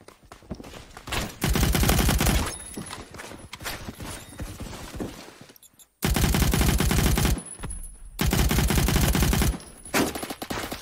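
Automatic fire from a SCAR PDW in the shooter game Phantom Forces comes in loud, rapid bursts of several seconds each, separated by short quieter gaps.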